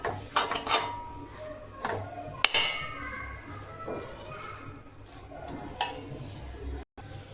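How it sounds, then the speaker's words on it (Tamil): Chapathi egg kothu with masala being stirred in a pan, the spatula scraping and clinking against the metal in a steady, close run of small knocks with a faint background hum. "கை எடுக்காமல் நீங்கள் கிளறி விடுங்க"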